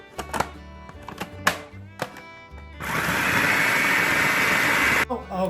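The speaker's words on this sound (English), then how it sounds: "And we are going to blend everything." A kitchen blender whirs loudly and steadily for about two seconds, blending green tomato salsa with onions, lime juice and salt, preceded by several sharp knocks and clunks from handling the jar and lid.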